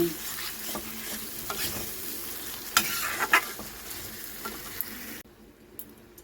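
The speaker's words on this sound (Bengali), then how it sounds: "তারপরে এই আলু দিয়ে ভালো করে মশলাটাকে আরও কষিয়ে নেব।" Potatoes fried in a spice paste with salt and turmeric, stirred steadily in the pan for a soyabean kofta curry; scraping strokes and sizzling run throughout, with a few sharper clinks, then drop off near the end.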